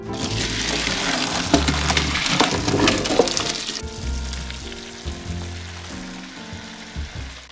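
Penne and broccoli frying in a very large skillet while being stirred, with a loud, steady sizzle and crackle broken by scraping and clattering stirring sounds near the microphone, with no talking.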